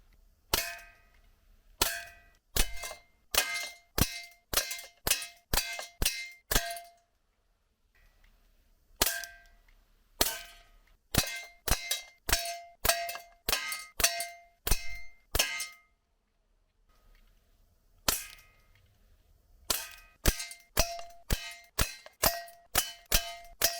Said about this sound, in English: First up, from 10 meters away, we're going to fire the Crosman pellets.